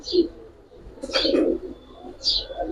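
Pigeons at a pigeon market, with several short cooing and chirping calls coming in separate bursts, fairly close, over a low background murmur.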